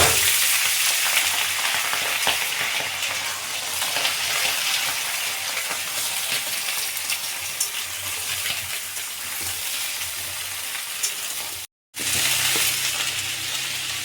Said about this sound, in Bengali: কপি আর আলুটাকে আমি একসাথে ভেজে নেব।